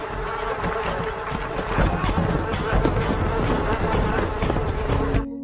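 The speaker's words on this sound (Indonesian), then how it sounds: "Charlie akhirnya terbangun dan menemukan dirinya dikerubungi oleh ribuan nyamuk." A swarm of thousands of mosquitoes surrounds someone in a thick, continuous buzzing drone that stays loud and close throughout, then cuts off abruptly.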